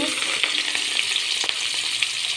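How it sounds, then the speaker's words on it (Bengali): Fish pieces fry in hot oil with a dense, loud, steady crackling hiss, close up and without speech. "এই যে তেলটা গরম হয়ে গেছে আমি একে একে মাছের পিসগুলো দিয়ে আর কি মাছগুলো ভেজে নেবো"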